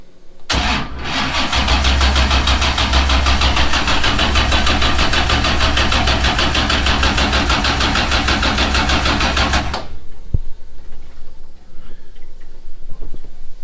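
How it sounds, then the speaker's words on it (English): A 427ci LS V8 engine cranks without firing, the starter churning loudly, slowly and rhythmically for about nine seconds before cutting off, leaving faint clicks and workshop ambience. "No start, no fire. Not even a little fire. Cranking kind of slow"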